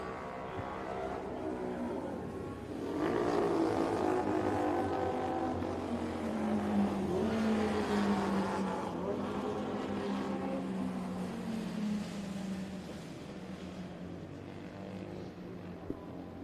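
Vintage racing motorcycles at an AHRMA event, including 250 Grand Prix novice historic bikes, roar steadily past on track, with engine pitch climbing and falling as a machine passes at middle distance, heard alone without talk.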